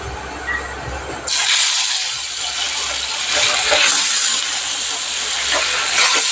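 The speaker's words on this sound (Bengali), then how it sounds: "মাছটা হালকা ভাজবো, বেশি ভাজবো না।" Fish fries lightly in hot oil, a loud, steady broadband sizzle that bursts in suddenly as the fish goes into the pan and continues close up.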